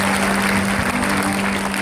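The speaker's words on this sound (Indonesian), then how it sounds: "Kita berikan tepuk tangan yang kasih." A congregation at a Christmas sermon applauds, a dense, continuous clapping that fills the room and stays loud from start to finish with no break.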